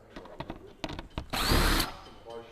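A power drill backing Phillips screws out of a fog light on a Toyota Fortuner, heard as a short, faint whir of under a second among clicks, knocks and handling noises.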